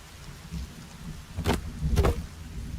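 Forced rain in the survival game Sons of the Forest pours with a dense, steady hiss, and two loud thunder cracks about half a second apart stand out above it.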